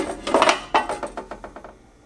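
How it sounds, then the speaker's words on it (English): A cooking pot set down into a Ninja Foodi Grill, giving a few loud metallic clanks up close, then a quick run of lighter rattling taps that fade out over about two seconds. "So you put the pot in,"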